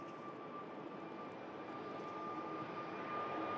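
A Jet2 airliner departs Manchester Airport, its engines a faint, steady distant roar that holds evenly and swells slightly toward the end, with no talking.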